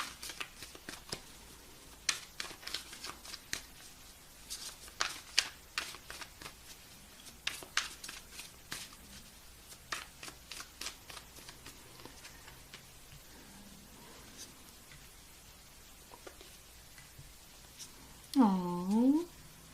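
Tarot cards are shuffled close by in soft, irregular riffling bursts and patters, with scattered taps of cards between them and a short voice sound near the end.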